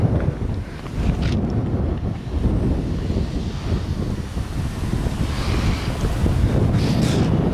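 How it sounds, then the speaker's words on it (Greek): Strong wind gusts along the Dalmatian coast of Croatia buffet the microphone in loud, rough, uneven roars, with a low rumbling wash underneath and no speech during the gusts. "Αυτή είναι η περιοχή, φυσάει."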